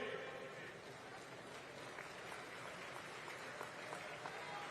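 Sustained crowd applause at a Congress political rally in Bhatapara, Chhattisgarh, a dense steady clapping wash that holds at even loudness throughout.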